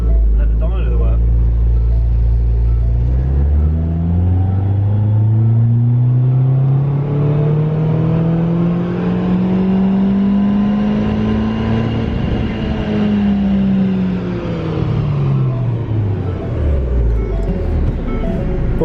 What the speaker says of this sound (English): So start at the bottom of the rev range, so just get in the fourth gear. Yep. Just basically plant it. Let the dyno do the work.